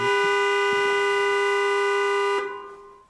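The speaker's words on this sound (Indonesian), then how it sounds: "menekan klakson kuat-kuat" A single long, loud car horn blast holds steady for over two seconds, then cuts off and fades.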